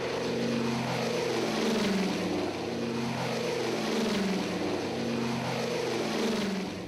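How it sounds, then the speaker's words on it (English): Engines of C-47 transport planes running, with hundreds of aircraft starting up across southern England on the eve of D-Day: a loud, steady propeller drone with a rhythmic throbbing beat that holds throughout. "The engines of more than 900 C-47 planes came to life around southern England late in the evening on June 5th."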